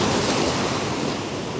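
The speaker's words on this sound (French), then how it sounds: "le bruit des vagues" Sea waves wash onto the shore at dawn during a morning of lure fishing from the coast, a steady, loud rushing roar with wind noise and no voices.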